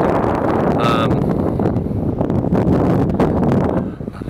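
Gusty wind buffets a microphone outdoors, a loud continuous low rumble with uneven surges throughout, with a brief faint tonal sound near the start.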